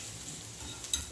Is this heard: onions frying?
yes